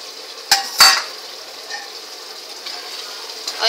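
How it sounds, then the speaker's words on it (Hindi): Chopped green chilli, coriander and mint dropped into masala frying in oil for mutton pulao, two sharp clatters of a utensil at the start followed by a soft, steady sizzle and light stirring. "अब हम इसमें कटी हुई हरी मिर्च, हरा धनिया और पुदीना डाल देंगे।"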